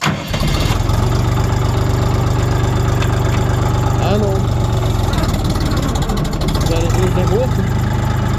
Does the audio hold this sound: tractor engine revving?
yes